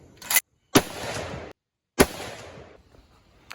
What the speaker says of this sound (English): 25 and then 2 shots at the 100 and just see where they're impacting